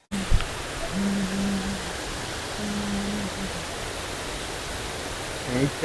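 Gandhi Falls, a waterfall near Bhatkal, gives a steady broadband rushing roar that fills the whole stretch, with a few brief voice murmurs underneath.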